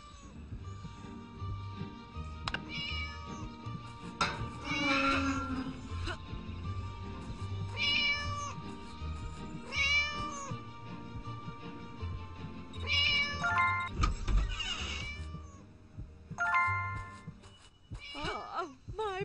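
Cartoonish cat meows from the Scary Teacher 3D game recur over busy game music and effects, several rising calls spread through the stretch, moderately loud and close.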